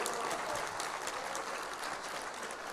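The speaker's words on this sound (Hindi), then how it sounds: "तालियां बजाइए प्रभु जी के लिए।" Listeners at a Srimad Bhagavatam lecture clap for Prabhu ji, a full, even burst of crowd applause that stays loud and continuous from start to finish.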